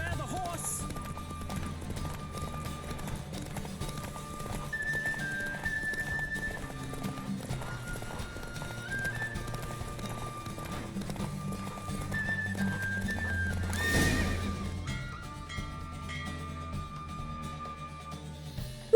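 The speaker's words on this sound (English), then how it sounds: "Don't spare the horse!" Rhythmic hoofbeats of a galloping horse with a whinny in The Witcher 3: Wild Hunt, set over game music and effects, with some voice in the mix.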